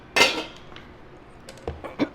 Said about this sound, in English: we're going to stir up the hot oil into the cornbread mix